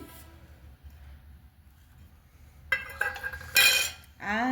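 A metal tiffin box holding prawn bati chorchori is opened after a quiet stretch: the lid clatters and clinks in a few sharp metallic knocks, with a loud scrape and rattle near the end.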